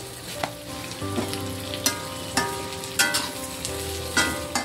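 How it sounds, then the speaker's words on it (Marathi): Onion, garlic, ginger and chana dal masala roast in a pan, a steady close sizzle and frying crackle with regular stirring scrapes and clinks, no voices. "सांगितलेला हा सगळा मसाला भाजून घेतला, हा रेडी झालाय भाजून।"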